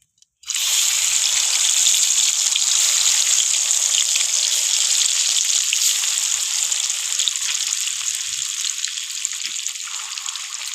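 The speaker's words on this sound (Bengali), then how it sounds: "একইভাবে সব মাছগুলো আবার ভেজে নেব" Bata fish sizzling steadily in hot oil in a pan, a loud, dense, continuous frying hiss that starts abruptly and holds with little change, no voices.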